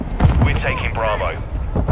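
Mortar strike explosions in a video game, with loud booming blasts and heavy gunfire rumbling throughout and voices talking over the chaos.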